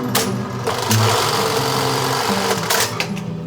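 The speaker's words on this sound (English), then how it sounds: "over here's a bar tacker. If you don't know what a bar tacker does, this is a LK1850." A Juki LK1850 industrial bar tacker sewing machine runs loudly in a workshop, giving a busy mechanical rattle and hum with short bursts of stitching, close to the listener and without talk.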